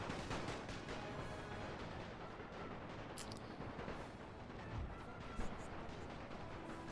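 Artillery and musket gunfire from a Napoleon: Total War battle using a World War I mod, a dense continuous rumble of distant volleys with a few sharper shots standing out.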